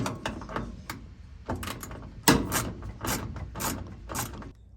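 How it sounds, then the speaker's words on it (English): A 10 mm ratchet loosening bolts on the drain pump of an LG washer: a steady series of sharp, close clicking pawl bursts, repeated in quick rhythmic strokes with no talking. "You loosen with the ratchet and then pull these out."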